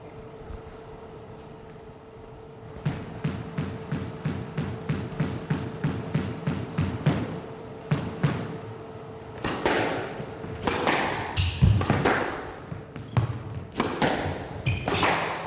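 A squash ball is struck hard by rackets in a women's quarter-final match at the Karachi Open: a steady rally of sharp cracks and wall thuds, near and loud, ending in a burst of louder hits with no commentary heard.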